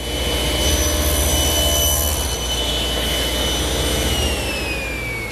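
A table saw cuts a tenon on a wooden leg for a chaise lounge: a loud, steady whining blade hum with a sustained high tone that sags in pitch as the blade winds down near the end.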